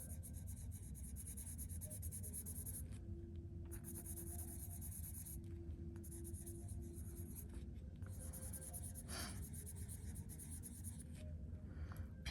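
A colored pencil rubs steadily across paper, coloring a small area in a continuous, close, quiet scratchy stroke. Brief pauses break it, and there is no talking.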